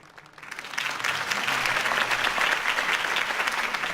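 A crowd in the video game Batman: The Telltale Series breaks into sustained applause that swells within the first second, then holds as a dense, even wash of clapping.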